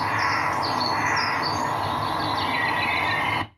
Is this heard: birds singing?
yes